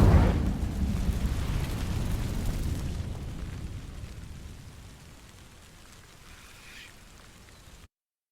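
Incendio fire spell sets dry vines ablaze in Hogwarts Legacy: a burst of crackling, rushing flame that roars loudly at first, then dies down to a faint hiss before cutting off.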